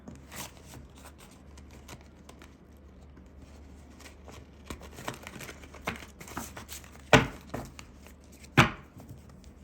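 New tarot cards riffled and shuffled close by, soft rustling taps building to two sharp louder riffles near the end.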